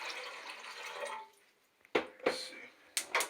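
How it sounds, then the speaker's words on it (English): Water poured into a pot for cooking lentils, a steady close splashing stream that stops and gives way to a few sharp drips and clinks. "gonna put some water in"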